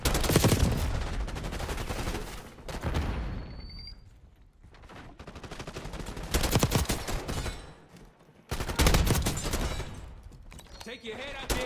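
Heavy bursts of gunfire from Call of Duty: Black Ops 6, with rapid automatic volleys and booming shots in loud clusters, broken by a brief lull before the shooting surges back.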